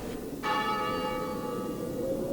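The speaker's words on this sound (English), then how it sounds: "There's the bell again." A bell rings out with a sustained, shimmering metallic tone that starts abruptly and lingers over a dense background rumble, loud and steady with no talk.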